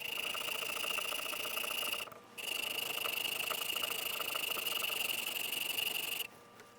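A steel plane iron's back is rubbed on an extra coarse diamond sharpening stone, a continuous rasping scrape that pauses briefly twice, close and fairly loud with no talking.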